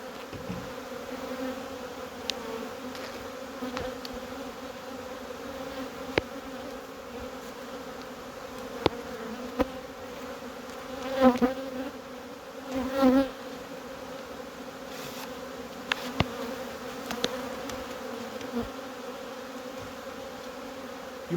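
Honey bees buzz steadily in a hive being cleared from honey supers with a rhombus escape, a close, continuous drone with a few louder passes from individual bees flying near.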